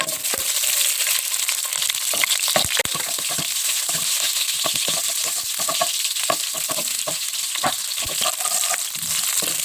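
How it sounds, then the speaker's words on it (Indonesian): Onions sautéing in a frying pan as chili-spiced sweet and sour chicken is prepared: constant close sizzling hiss broken by frequent scraping and clacking strokes of a spatula, with no talking. "sekarang kita mulai tumis bumbunya ya. Di sini kita tumis bawang bombay terlebih dahulu."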